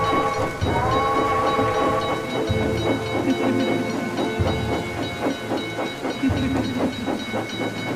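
Steady rain pours down with a continuous hiss, mixed with low rumbling like distant thunder.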